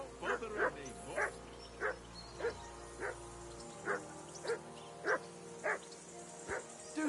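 A dog barks persistently, about a dozen evenly spaced, sharp barks at moderate distance over a faint steady hum, with no voices.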